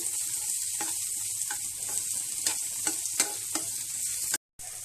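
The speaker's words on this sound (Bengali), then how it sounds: "একটা বড় পেঁয়াজ পুরোটা আমি দিলাম এখন এটাকে হালকা একটু ভাজবো" One large chopped onion fries lightly in a pan, a steady sizzle punctuated by several sharp spatula scrapes and taps, close up and unaccompanied by speech, with a brief dead-silent gap just before the end.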